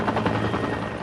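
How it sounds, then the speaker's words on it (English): Utility helicopter hovering near eye level while setting power poles after Hurricane Helene, a loud, steady rotor thump with pulsing beats and broad engine roar throughout. "The helicopter was hovering about eye level with us"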